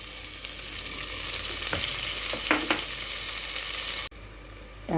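Chopped tomatoes sizzle steadily in hot oil in a pan while a Telugu-style curry with ice apple (palm fruit) cooks, with a few sharper crackles and a brief dip near the end.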